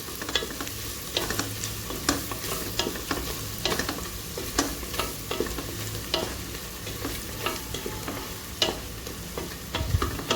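Spoon stirring red chili powder and spices into mutton biryani masala in a pan, with a steady rhythm of scraping strokes over a continuous close sizzle and no talking.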